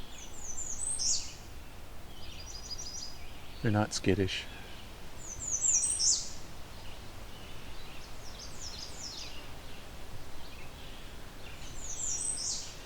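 Friendly warblers singing in Halton Forest: short high chirping phrases repeat at intervals over steady background hiss, with a brief louder rustle or knock in the middle and a voice speaking briefly.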